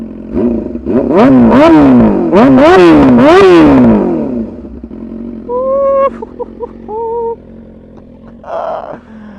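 A 600cc motorcycle engine revs hard several times in quick succession, each loud, close rev climbing and falling, followed by a quieter idle with a few brief whining tones and a short burst at the end.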